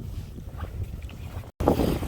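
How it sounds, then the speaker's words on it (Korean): Strong wind blowing across a beach on a cold, gusty day, a steady low rumble buffeting the microphone with a brief dropout before the gusts return louder. "바람 장난이가 불고요."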